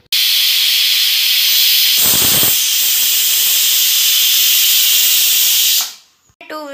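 A pressure cooker holding Hyderabadi aloo gosht shorba lets off a loud, continuous rushing hiss of steam for about six seconds, then cuts off abruptly as a voice starts.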